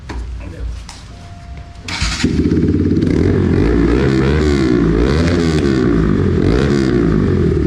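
Bajaj NS200 motorcycle fitted with a very large aftermarket exhaust, starting up and settling into a loud, close, throbbing idle with rhythmic blips of revving, a voice speaking briefly before the start.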